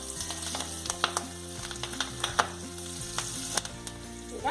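Green chilli, turmeric and asafoetida fry in hot oil in a pan, a steady close sizzle with scattered crackles and pops, with faint stirring and no voices.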